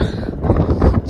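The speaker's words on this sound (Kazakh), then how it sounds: "жел болып кетті мына жер" Gusty wind blows across the open yard of a village farmstead in early spring, a loud, close, rumbling rush of microphone buffeting that rises and falls, with no speech.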